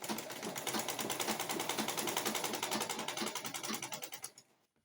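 Sewing machine stitching fabric for a drawstring kaftan dress, a fast, even mechanical clatter of needle strokes running steadily close up for about four seconds before stopping.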